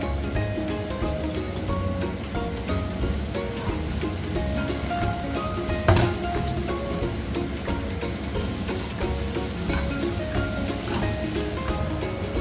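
Rice and vegetables for fried rice, made with taro (colocasia) leaves, frying steadily in a hot pan: a continuous dense sizzle with occasional stirring scrapes and one sharp clatter near the middle.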